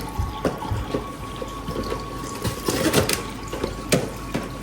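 Water pours into a pot for making stuffing in a home kitchen, a soft continuous trickle and splash under light clatter, fairly quiet.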